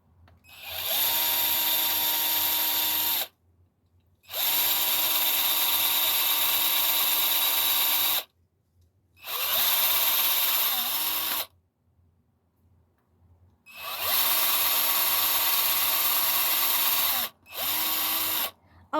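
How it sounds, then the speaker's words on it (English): Power drill driving screws into a workpiece, four long whirring bursts of a few seconds each with short quiet gaps, plus a brief final burst, close and loud. "I'm gonna put 2 screws right here, 2 screws on this side, drill it in"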